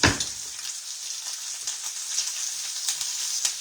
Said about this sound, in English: Let's get us out a fork and flip our bacon with.